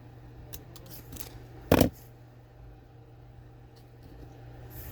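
One short, crisp snip of scissors trimming a sliver off cardstock during a die-cut craft project, a single quiet cut standing out against a low steady room hum.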